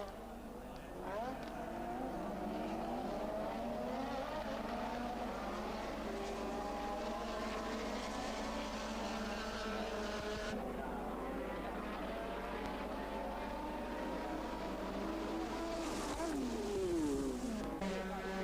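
1984 Formula 1 race cars, including McLarens and a Brabham, race through a corner. Their high engine whine rises and falls in long sweeping pitches under continuous commentator narration.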